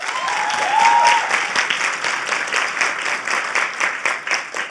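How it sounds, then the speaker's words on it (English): An audience at a financial fitness talk applauds itself, a dense, sustained wash of many hands clapping, fairly loud and close, tapering slightly toward the end. "give yourselves a round of applause for being here"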